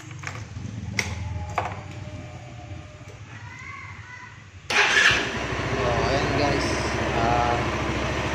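A Kawasaki Rouser motorcycle with a hard-starting problem cranks with a few short bursts, then its engine catches and settles into a loud, steady running rumble close by.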